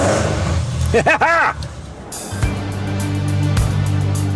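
A 1970s Ford Escort Mk1 Mexico engine revs up loudly with a deep throaty roar, after a few brief voices, then settles into a steady rumbling idle.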